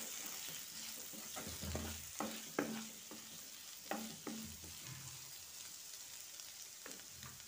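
A spoon scrapes and stirs aloo capsicum curry in a hot pan, giving a string of distinct, close scraping strokes over a low, quiet sizzle, with no talk.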